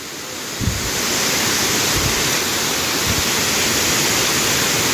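Lamassua waterfall in Bontomasunggu village, South Sulawesi, pours as a steady, loud, broadband roar of falling water, close by and unbroken, with a few faint low thumps near the start.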